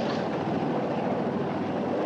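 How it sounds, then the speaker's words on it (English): Helicopter flying overhead near Hooterville, a continuous rumbling engine drone with a dense low churn, holding steady and fairly loud with no voices. "It's a helicopter."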